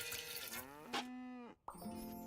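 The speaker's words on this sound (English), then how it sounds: "See, I have 2 cows." Two farm cows in a game moo in long, drawn-out calls, one low moo followed by a short gap and then another, loud and close with no talk over them.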